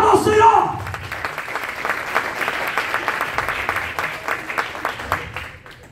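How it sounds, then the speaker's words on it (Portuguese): Applause from a church congregation during a service, steady clapping that tapers off, following a brief voice at the start. "Aplauda ao Senhor."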